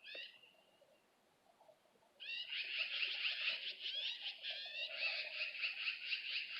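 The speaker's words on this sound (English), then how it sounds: "we're having a meeting of the birds here." Several birds call together outdoors, high bright chirps and warbling trills layered into a continuous chorus that swells loudly after a quieter opening with a single early call.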